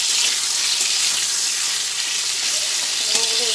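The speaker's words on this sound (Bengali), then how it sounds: "ভালোভাবে কুমড়োগুলো ভেজে নিচ্ছি।" Pumpkin pieces frying in a pan with salt, a steady loud sizzle throughout with occasional stirring scrapes near the end.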